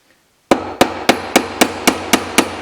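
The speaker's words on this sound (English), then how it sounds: "these Japanese hammers, which I adore way better than American style hammers, are perfect for this" Eight sharp, evenly spaced taps from a Japanese hammer driving hardwood dowels through a 5/16 inch hole in a dowel plate, each strike crisp and ringing briefly, close and loud with no voices.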